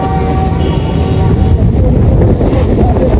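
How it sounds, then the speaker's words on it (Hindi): A strong windstorm roars on Mussoorie's Mall Road, making heavy, continuous gusting rumble that buffets the microphone close up throughout, with no clear voices over it. "ये तो आंधी कितनी तेज है।"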